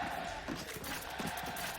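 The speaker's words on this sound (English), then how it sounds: "And the crowd get behind them after that." A crowd at a Valorant Masters esports match makes a faint, distant roar that swells and falls, with muffled voices mixed into the wash of noise.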